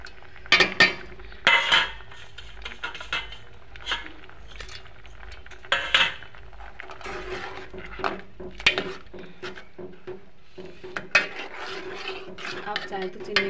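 A spoon stirs sugar into tomato soup in a pot, making scattered metallic clinks and scrapes against the pot at an irregular pace, close by, with no talking.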